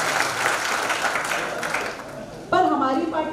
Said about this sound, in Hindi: एक बार जोरदार ताली बजाओ भाई